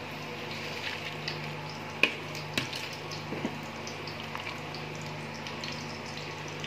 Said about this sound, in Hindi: देखिए व्यूअर्स, यखनी में अच्छी तरह बॉईल आ चुका है।